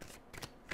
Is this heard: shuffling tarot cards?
yes